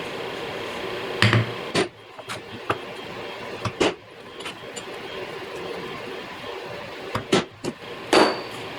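Sharp metallic hammer strikes on a center punch marking drill points in metal for a knife, several separate taps in irregular pairs over a quiet background.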